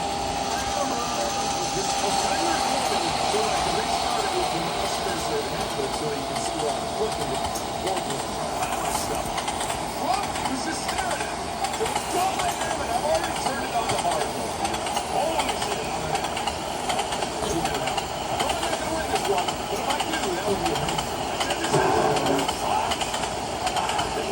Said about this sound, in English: Back on the runaway train, the train was still catching up speed.